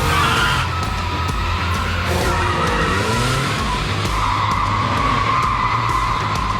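A rear-engine, rear-wheel-drive Porsche 911 slides through a skid on a film stunt set, its tires squealing steadily for several seconds over a continuous engine roar, loud and close, with no talking.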